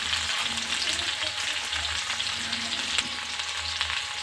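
Mixed winter vegetables with spices fry in a pan, a steady close sizzle with the faint scrape of stirring running throughout, no voices present.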